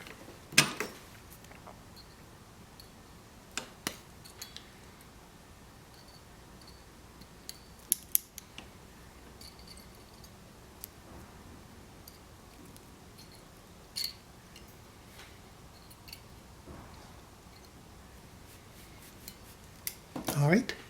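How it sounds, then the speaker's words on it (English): Snips cutting wire while making a heating element, several sharp, close metallic clicks scattered through an otherwise quiet stretch, with brief speech around them. "And we take the snips."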